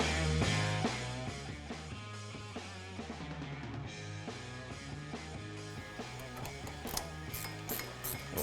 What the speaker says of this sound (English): We'll tighten up some of the castle nuts.